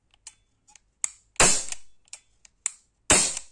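Two loud, sharp shots from a Tokarev Borner TT-X 4.5mm BB pistol, a light plastic-bodied CO2 replica, each followed by a brief decay, with softer mechanical clicks and handling ticks scattered between them.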